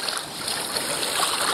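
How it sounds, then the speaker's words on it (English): A kayak paddle works through sheltered cove water on a windy day, giving a brief burst of close splashing and water wash over a constant breezy hiss. "I still prefer to paddle in here in these coves on a windy day like today."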